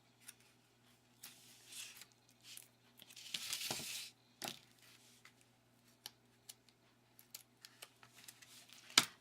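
Adhesive tape tears from a roll during papercraft box-making, a roughly one-second ripping burst in the middle followed by scattered short crinkles and taps of handling, close and fairly quiet with no talk.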